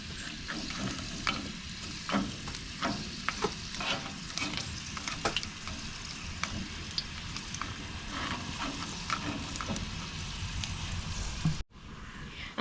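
Steady crackling sizzle of dried fish frying in a pan, continuous and close, with scattered sharper pops and spits throughout.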